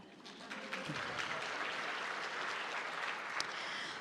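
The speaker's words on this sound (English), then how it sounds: "round of applause to them" Audience applause at a women's leadership conference, a broad wash of many hands clapping steadily, heard from a distance and fairly quiet, with no voices over it.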